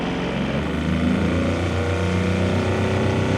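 A boat driven by a 6 horsepower electric outboard motor runs steadily through the water, with a continuous close hum of motion, water and wind and no talking.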